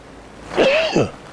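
A single short, sharp sneeze, close and fairly loud, rising and then dropping off quickly.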